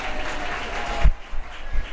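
Brief applause and cheering from the crowd at a puzzle competition in a hot dome, a short burst of clapping that cuts off abruptly, followed by a few faint thumps.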